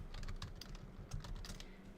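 Rapid, uneven keystrokes clatter on a computer keyboard close by, a quiet stream of clicks with no talking.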